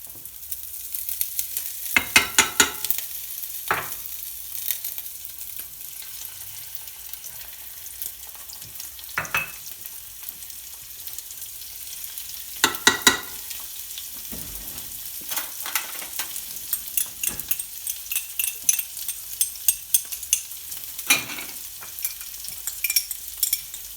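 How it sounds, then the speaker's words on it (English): Chili, garlic and ginger are stir-fried in a pan over fire for pad thai, a soft continuous sizzle broken by bursts of scraping and tossing, with no talking. "now comes a bit of stir fry with the aromatic ingredients. So I'm talking about the chili,"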